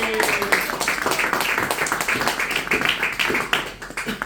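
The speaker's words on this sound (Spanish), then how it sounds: "Denle un aplauso a Dios" Congregation at a church service clapping in praise, a dense patter of hands filling the room, with voices and cheers mixed in throughout.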